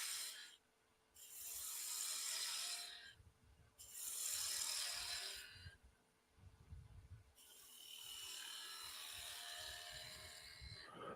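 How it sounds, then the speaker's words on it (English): A small spindle gouge cuts a bevel into a spinning wooden bottle stopper on a woodturning lathe, giving several loud, hissing, chattering passes separated by short pauses. A steady cutting run follows at the end. "Got my little spindle gouge, and I'm just going to bevel this"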